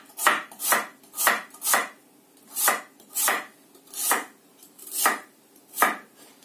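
Jerusalem artichokes being cut with a Japanese knife, nine crisp, evenly spaced chops against a board, close and distinct with quiet gaps between strokes.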